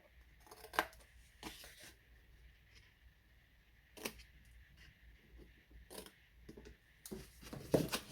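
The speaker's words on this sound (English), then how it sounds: "I'm just going to cut a notch off the edge of each of those flaps just so that they fold in nicely" Scissors cutting notches into the flaps of a cardstock gift box lid, a few quiet, sparse snips and rustles close by over near silence.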